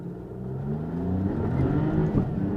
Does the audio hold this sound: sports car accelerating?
yes